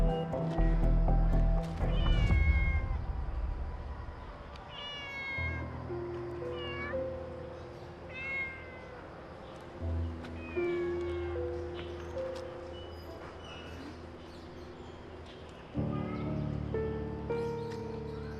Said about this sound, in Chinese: 好可怜的野猫啊！